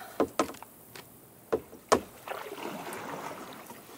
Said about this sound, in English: I'm going to try to paddle and push my way right through there.